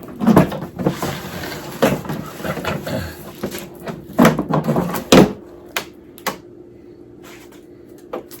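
Latches on the case of a 1967 Evinrude Yachtwin 3 HP folding outboard motor, damaged in shipment, come undone in a series of sharp, close metallic clicks and clacks, several in quick succession, then a few lighter taps.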